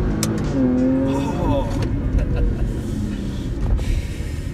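A Jaguar F-Pace S pulling away at full throttle, its engine note rising steadily and loud from inside the cabin, with a voice briefly speaking over it.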